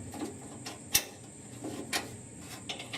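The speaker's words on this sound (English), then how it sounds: "I'm using a wrench because I lost my short socket and I can't get a long socket in here." A wrench tightens the glovebox door hardware inside a 1966 Ford F100 cab with quiet, close mechanical clicks and creaks, one sharp metallic tick and a few softer ratcheting taps spread over a few seconds, with no talking.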